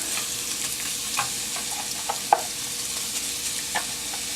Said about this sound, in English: I'm going to throw in my peppers